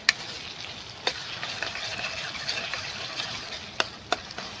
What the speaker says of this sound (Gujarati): તો આ ક્રશ કરેલું લસણ આપણે 1 થી 2 મિનિટ સુધી સાંતળવાનું છે સરસ